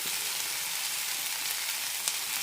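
Tomato pieces go into onions already sautéing in a pan for onion chutney, giving a steady, close, even sizzle and frying hiss with no voices.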